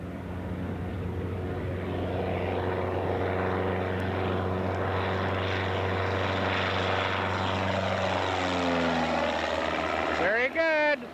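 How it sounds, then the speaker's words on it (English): Scale model airplane taking off in a crosswind at Estacada Airport, its propeller engine droning loud and steady with a rising whine as it climbs, a voice speaking briefly near the end. "Gary and Roger on a crosswind takeoff."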